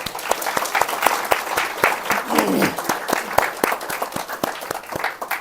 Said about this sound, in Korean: 격려와 감사의 박수를 부탁드립니다